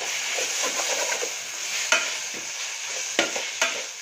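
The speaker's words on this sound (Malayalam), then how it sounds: "ഇടയ്ക്കിത് തുറന്ന് ഇളക്കി കൊടുക്കേണ്ട ആവശ്യമുണ്ട്." Onions are stirred while frying in a pan for Kerala chicken pirattu: a close, steady sizzle broken by several sharp spatula scrapes and knocks against the pan.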